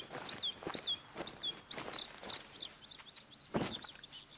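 Squeaky bird calls from The Hunter: Call of the Wild on the Revontuli Coast, a rapid series of short, high chirps repeating close by, with soft rustling and thumps underneath and no talking.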